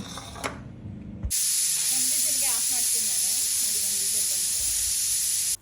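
Steam hisses loudly and steadily from a pressure cooker whistle on a pot of mutton sambar. A short burst comes first, then a continuous close, bright roar runs to the end, with faint wavering tones beneath it.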